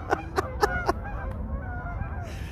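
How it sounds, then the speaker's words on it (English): Several geese honk in a quick series of loud, nasal calls near the start, then fade into a steady outdoor background with no talking. "There's two geese still over there."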